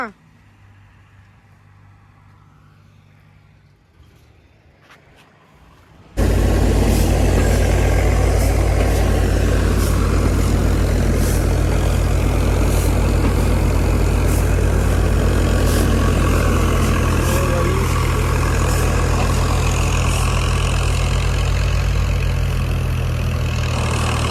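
A tractor engine idles on a farm during the wheat harvest: after a quiet opening, a loud, steady low rumble kicks in abruptly and holds without a break, with voices faintly underneath.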